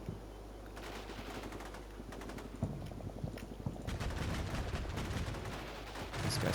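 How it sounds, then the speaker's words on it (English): Rapid automatic cannon fire from a ZSU-23 Shilka quad-barrel anti-aircraft gun in a Combat Mission: Shock Force 2 battle, sustained bursts of fast heavy shots over a rumbling low background, growing louder toward the end. "these guys just found out what it's like to be at the wrong end of the 4 barrels of a ZSU-23 Shilka"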